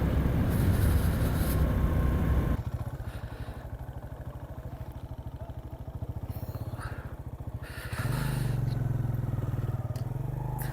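Motorcycle on a solo tour toward Mahodand Lake near a forest, with its engine droning steadily up close, a loud rough rumble that eases to a rhythmic putter midway and then swells again, with no talk.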